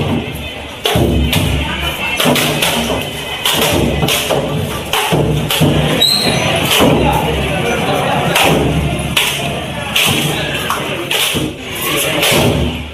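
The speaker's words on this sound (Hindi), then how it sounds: "उसके बाद 108 नारियल चढ़ाए गए, जश्न में फोड़े गए" A crowd smashes 108 coconuts in celebration, a rapid irregular series of loud thuds and cracks amid crowd noise and cheering.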